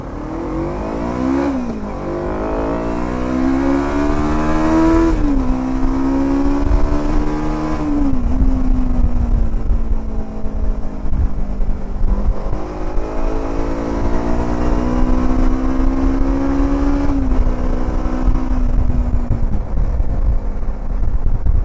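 Zongshen Cyclone RX3s motorcycle engine heard while riding, a loud, close, steady drone that climbs in pitch through the gears with several shift dips, alongside wind rush.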